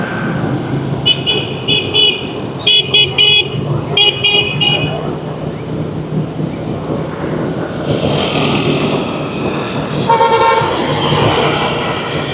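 Dense Saigon city-centre traffic jam, with a constant rumble of engines and repeated short horn toots in clustered bursts, some near and sharp, others farther off, over a steady roadway roar.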